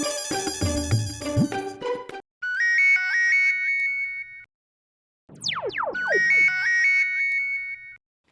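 A phone's loud electronic ringtone plays alone, a jangling melodic burst followed by repeating warbling tones and sweeping chirps, with short pauses between phrases.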